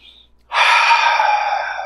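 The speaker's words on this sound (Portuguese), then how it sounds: "eu já vou convidar você agora a respirar profundamente" A single deep inhalation during a guided meditation, a sudden loud airy breath that begins about a third of the way in and holds for over a second, heard near and alone.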